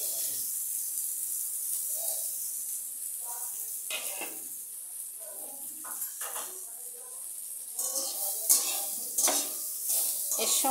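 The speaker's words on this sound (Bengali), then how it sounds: "ঘি দিয়ে এটা ভেজে নেব।" Shyama rice (barnyard millet) fries in ghee in a kadai, with a steady soft sizzle under repeated scraping strokes of a spatula against the pan and occasional clinks, growing louder toward the end.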